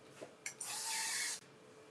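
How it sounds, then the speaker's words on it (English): Macadamia oil cooking spray hisses onto a pan in one short, light burst, close and fairly quiet, with a faint click before it. "I'm just going to spray this lightly"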